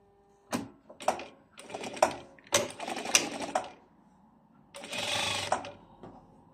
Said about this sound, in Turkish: cebimizi dikiyoruz